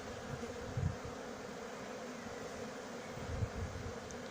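Many honeybees stream out of a colony lodged in a house chimney in Brunoy, making a dense, steady droning hum that carries throughout, with a few slightly louder swells as bees pass close.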